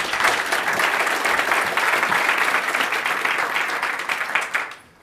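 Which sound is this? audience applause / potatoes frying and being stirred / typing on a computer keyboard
audience applause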